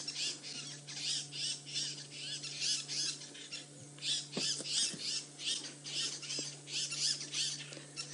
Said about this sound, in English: those buffalo weavers are making all sorts of noise